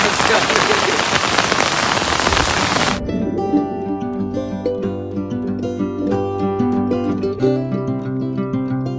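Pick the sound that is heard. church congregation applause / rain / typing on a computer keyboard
rain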